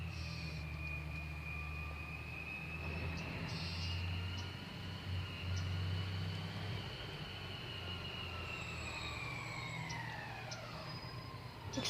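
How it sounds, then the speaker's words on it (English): A garbage truck grinds and rumbles steadily in the background of a Florida street, a low engine drone with a high whining tone sweeping across it, moderately faint and continuous with no talking. "Excuse the garbage truck in the background."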